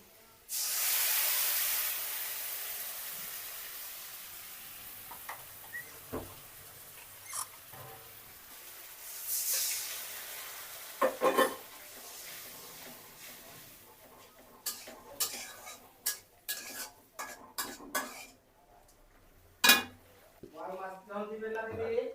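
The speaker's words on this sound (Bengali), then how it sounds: "হ্যাঁ স্বাভাবিক আস্তে আস্তে ঠিক পেঁয়াজগুলো লাল হয়ে আসছে মশলাটা দিয়ে দিব" Onions fry with spices in a pan, giving a steady sizzling hiss with scattered crackles and pops, joined later by clinks and scraping in a home kitchen.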